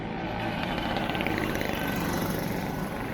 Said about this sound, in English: Just excuse all the noisy Vespas and associated motorbike